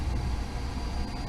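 A swim spa's jets run steadily nearby, a constant low rumbling churn of water and pump with no breaks or talk.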